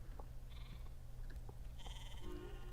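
Sheep bleat in the Star Stable Online video game, several short nasal bleats scattered over a steady low ambient hum, moderately faint and with no talk.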